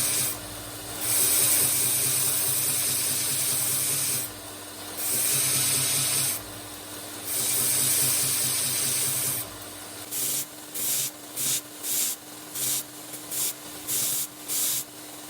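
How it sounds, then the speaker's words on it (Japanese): CPM154 steel knife spine being polished on a belt sander, a steady abrasive hiss in long passes, then a run of short, rhythmic strokes, close and fairly loud with no talking. "胸と顎を磨いていきます。"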